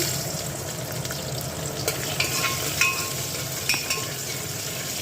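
Onions frying in a pan with a green chilli for a mutton curry, a close continuous sizzle with a few sharp spatula taps and scrapes as they are stirred.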